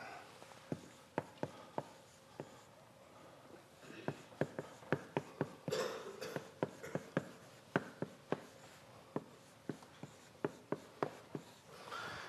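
Chalk or marker strokes on a lecture-hall board as an equation is written, a steady run of sharp close taps and short scratches with brief pauses between groups, no talking.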